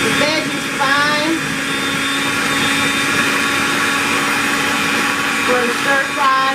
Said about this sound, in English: the chopper is going to go